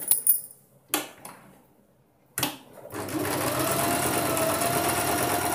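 A sewing machine top-stitches a boat neck blouse, with a few short clicks and bursts before it settles into a steady, close, continuous whirring run.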